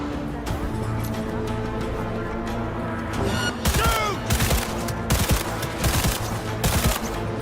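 Bursts of automatic gunfire and rapid shots in the video game Cyberpunk 2077, loud and dense from mid-clip onward, stacked over a busy game soundscape with voices.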